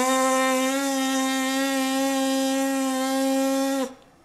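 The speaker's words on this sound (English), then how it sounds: "you keep the lips together and you produce a buzzing sound" A trumpet player's lips buzzing together without the instrument, a loud steady nasal drone held evenly for almost four seconds before cutting off abruptly.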